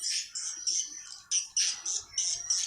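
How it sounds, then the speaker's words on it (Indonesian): Swiftlets calling inside a converted 4x4 room swiftlet bird house, a run of shrill, buzzy chirps in quick bursts that repeat about every third of a second. The calls are close, loud and heard on their own. "burung walet juga mampu bermanuver untuk masuk ke dalam RBW ini"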